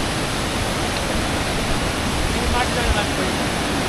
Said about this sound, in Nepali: दामी रहेछ झर्ना चाहिँ